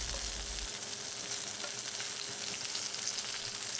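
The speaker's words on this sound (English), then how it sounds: "Coat them in potato starch, cornstarch wax dough, and fry in plenty of oil until crispy." Shrimp coated in potato starch or cornstarch fry in plenty of oil for a home-made bento lunch, giving a dense, even crackling sizzle that stays close and constant throughout, with no voices.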